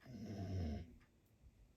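A dog snoring indoors, a low rumbling breath that grows louder then fades into quieter, softer breathing, close and fairly faint.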